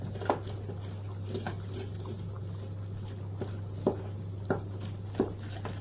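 A savoury paste for mac and cheese cooks in a pan, giving a soft steady sizzle with several distinct sticky stirring scrapes and taps, faint against a low constant hum.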